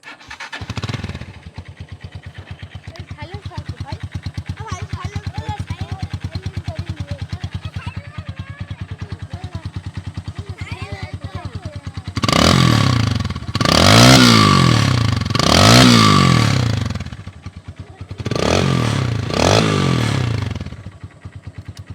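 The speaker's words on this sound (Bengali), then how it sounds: "আমি আপনাদেরকে গাড়ির ইঞ্জিনের সাউন্ডটা যদি শোনানোর চেষ্টা করি।" A Honda CRZ 165cc motorcycle engine idles steadily, then revs up loudly in several strong bursts before settling back to a low idle.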